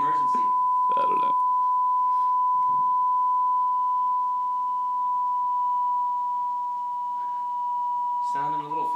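A steady, pure sine test tone plays through a speaker at one unchanging pitch for the whole stretch, with people briefly talking over it at the start, near the middle and at the end.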